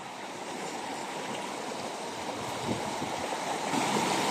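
Creek water flowing steadily beside a green, leafy bank, a continuous broadband rush that holds even and close throughout with no voices.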